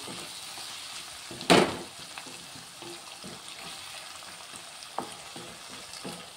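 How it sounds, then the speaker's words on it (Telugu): Drumstick and tomato curry sizzles steadily in a pan while being stirred, with soft scraping strokes and one sharp, loud clank of the spoon early on, heard close with no talking. "మళ్ళీ ఒకసారి కలిపేసుకుంటున్నాను."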